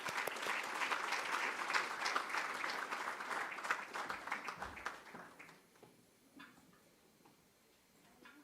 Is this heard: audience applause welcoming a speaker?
yes